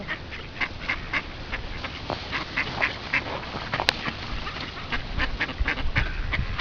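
A flock of well-fed ducks being fed raisin bread quack continuously in rapid, overlapping calls, with a brief sharp click partway through and no talking.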